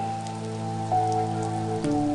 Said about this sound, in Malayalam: നല്ല മഴ അല്ലേ സാറേ?